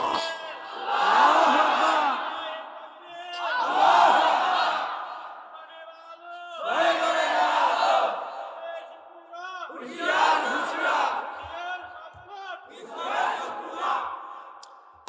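A large crowd at a religious gathering shouting a takbir chant in unison: five loud, swelling waves of massed voices, each a few seconds long, separated by short pauses.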